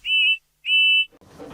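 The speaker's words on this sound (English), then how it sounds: "Then he heard a loud whistle." The steam whistle of George the steamroller from a children's railway cartoon sounds in two loud, clear blasts of equal length with a short gap between them, then gives way to faint background noise.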